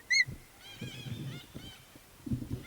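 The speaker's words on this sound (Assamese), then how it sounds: "ধুনীয়াৰ ভাটৌ তো শুনক আপোনালোকে ভাটৌৰ মাত শুনক" Birds calling from trees at a jungle camp by Chandubi Lake in Assam. Short, harsh, honking squawks come in a few bursts over quiet outdoor ambience, fairly close.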